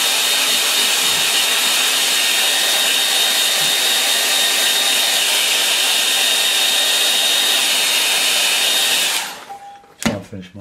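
Hair dryer blowing steadily on a freshly painted canvas, loud and constant for about nine seconds before being switched off and going quiet.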